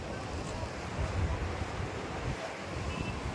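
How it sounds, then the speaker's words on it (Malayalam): Sea waves washing onto the shore at Mattool in Kannur, a steady close surf roar mixed with gusty wind noise on the microphone. "ഇത് കടൽ"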